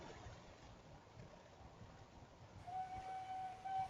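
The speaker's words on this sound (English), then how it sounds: "So take that off, let the train get going." A train in a video game starts to move, giving a faint, low rumbling roll with a thin whistle-like tone rising near the end.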